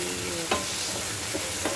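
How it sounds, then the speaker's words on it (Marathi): Tomato and onion fry in a pan for masala dahi bhindi, a dense continuous sizzle with a couple of quick stirring scrapes, close and fairly loud. "टमाटाही चांगला फ्राय करून घेईल."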